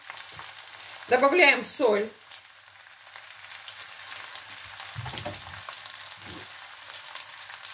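Vegetables for a vegetable soup fry in a pan, a brief spoken word at the start giving way to a continuous moderate sizzle with a few faint knocks of the spoon against the pan.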